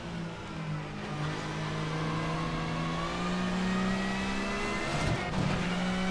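A Super Tourer race car in Assetto Corsa at Donington draws alongside with a steady, loud engine drone and rising whine. Nearby engine noise swells and fades over the continuous roar, with no talking.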